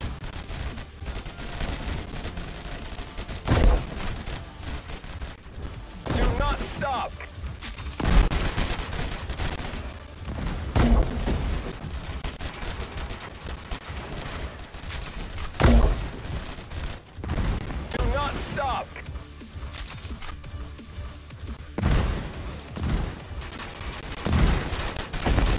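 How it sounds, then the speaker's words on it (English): Continuous heavy video game gunfire with bursts of automatic fire and loud booms, rapid and dense throughout, with no voices. "We are under gunfire."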